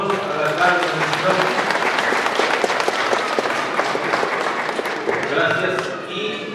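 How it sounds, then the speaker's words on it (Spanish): A crowd at a religious festival procession for Saint Martin of Tours in Pisacoma applauds the mayor with dense, sustained clapping that holds steady for several seconds, with voices mixed in among the crowd. "Con fuerte voto de aplausos a la alcaldesa."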